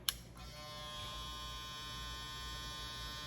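StyleCraft Mythic cordless hair clipper switched on, a click followed by a steady quiet motor buzz with a high whine, running evenly and faint.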